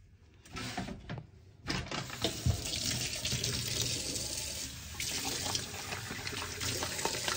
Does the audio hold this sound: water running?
yes